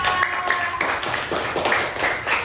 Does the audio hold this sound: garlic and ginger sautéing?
no